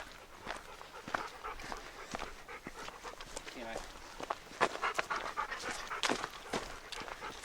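A dog pants rapidly and steadily on a hiking trail, close up, with footsteps crunching alongside and a person speaking over it.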